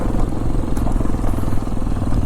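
A Hero Xpulse 210 off-road motorcycle is ridden along a hill trail, its engine throbbing close and loud with a steady, low pulsing note and no talking.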